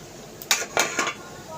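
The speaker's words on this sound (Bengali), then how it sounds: "এখন হাঁড়িটাকে নামাতে হবে ভাতের ফ্যান ঝরানোর জন্য" A metal cooking pot of boiled rice and potato is lifted off the stove to drain its starch water, giving three sharp metallic clanks close by over a quiet background.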